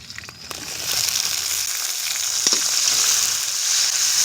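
Chopped onions with tomato and green chilli sizzle and fry in hot oil, a steady crackling hiss with a few stirring scrapes, close up.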